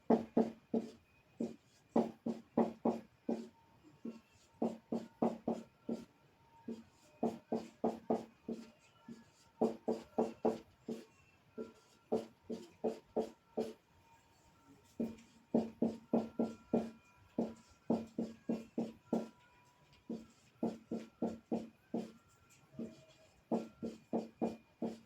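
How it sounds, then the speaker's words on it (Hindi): Pen writing on paper, quiet scratchy strokes in short rhythmic bursts that repeat with brief pauses, close and soft, with no talk. "ऐसे लिखते जाओ"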